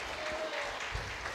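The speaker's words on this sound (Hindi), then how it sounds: "ताली बजाओ जोर से" Church congregation clapping loudly at a Hindi-language worship service, a dense steady wash of many hands filling the room for over a second.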